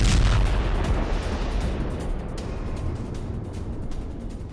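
A heavy, low rumbling blast from a US strike on Iran's Chabahar port, loud and close at first and then rolling into a long, slowly fading roar of broadband noise.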